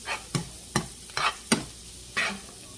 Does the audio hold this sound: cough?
no